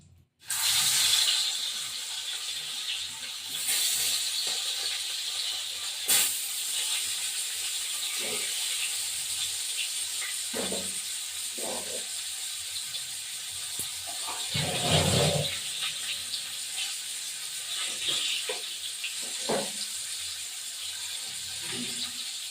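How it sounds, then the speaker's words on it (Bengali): Large koi fish frying in hot oil for a spicy tel koi dish, a continuous bright hiss and sizzle with scattered spits and occasional clunks of the pan, close and steady. "এখন এবার মাছগুলো দিয়ে দিলাম"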